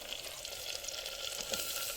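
Chillies fry in hot oil for Maggi noodles, giving a soft, steady hiss of sizzling at moderate distance with faint crackles and no talking.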